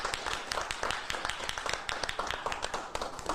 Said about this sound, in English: would you clap for Representative Larry Lambert